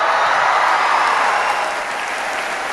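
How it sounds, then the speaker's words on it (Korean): An audience in a concert hall bursts into sustained applause and cheering as the gold medal winner of the 16th Van Cliburn International Piano Competition is announced, a dense, loud wash of clapping that carries on throughout. "임윤찬의 이름이 불리자 객석에서 박수와 함성이 터집니다."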